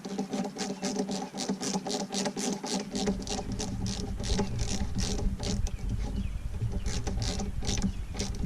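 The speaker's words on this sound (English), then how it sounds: "I'm using a 1/4 inch drive ratchet and socket" A 1/4 inch drive ratchet and socket tightens bolts on a Yamaha four-stroke outboard while an impeller is replaced, making rapid, close clicking with a steady rhythm throughout and a grinding rub underneath.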